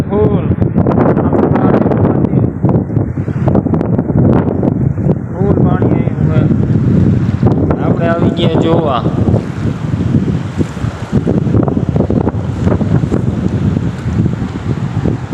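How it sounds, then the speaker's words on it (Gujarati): A swollen river rushes after heavy rain where two rivers meet, a loud, continuous roar of water mixed with gusting wind noise on the microphone while people talk over it nearby. "અને ખૂબ વરસાદ પડ્યો છે અમારા વિસ્તારમાં"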